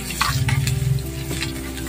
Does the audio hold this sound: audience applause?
no